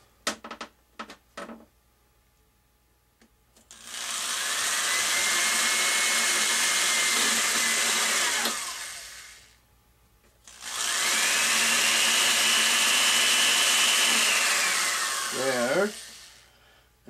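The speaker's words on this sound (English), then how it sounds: "So I'm going to go and drill a hole." A power drill bores a hole in a fiberglass HobbyKing FPV UAV kit V2 airframe, running in two sustained, loud whirring bursts of several seconds each, separated by a short pause after a few quiet handling clicks.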